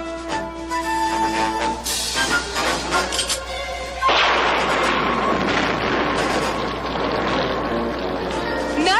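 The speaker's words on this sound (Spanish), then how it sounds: "Oh, Wizard, me parece que oí una explosión" A loud, rumbling cartoon explosion bursts in after a few seconds over music and keeps roaring steadily to the end.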